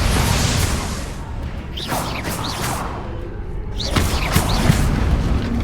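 Continuous booming blasts from the Bombarda blasting spell in Hogwarts Legacy, loud and dense, with whooshing swishes and rumbling crashes layered over a steady roar of game noise.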